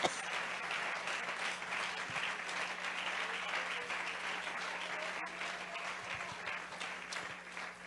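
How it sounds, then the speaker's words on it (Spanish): Sustained applause from a church congregation during a local worship service, a dense, even crackle of many clapping hands held at steady volume over a faint hum. "Ese aplauso fuerte para el Señor Jesús."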